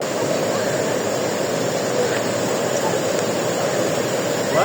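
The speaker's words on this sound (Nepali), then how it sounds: "पानी परेको हो ठुलो झर्ना" A large waterfall at Shivapuri, swollen after heavy rain, roars as a dense, unbroken rush of falling water heard close and loud throughout.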